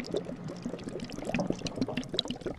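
Boiling water poured over wood gathered from the woods, a continuous splashing trickle at close range with small bubbling pops, heard alone without talk.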